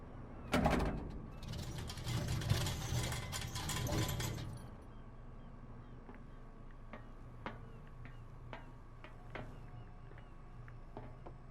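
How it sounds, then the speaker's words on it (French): A handle turns a creaking mechanism in the Call of Cthulhu video game, with a loud grinding, rattling burst for about four seconds, then a sparse series of faint metallic clicks and ticks over a low steady hum. "All I have to do is turn this handle."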